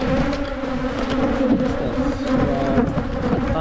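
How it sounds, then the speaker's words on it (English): Dense, steady buzzing of many honeybees swarming close by around a beekeeper, continuous and loud throughout with no pauses. "If you can't tell, the bees are following me."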